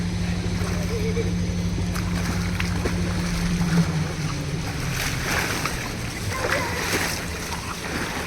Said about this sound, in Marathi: या बघा मस्त स्विमिंग करताय दोघी